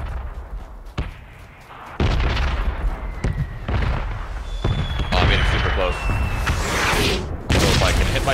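Gunfire in PUBG squads play: repeated shots crack out in bursts and single reports, some sharp and near, others further off, running steadily through the stretch.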